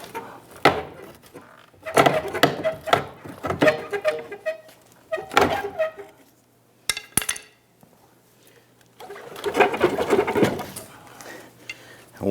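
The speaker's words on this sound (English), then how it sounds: "We need to remove that nut, and then we'll go ahead and pull this off" Tools work on a trailer hitch receiver bracket nut under a 1999-2004 Jeep Grand Cherokee, with scattered metallic clinks, knocks and thunks in irregular bursts separated by pauses, fairly close.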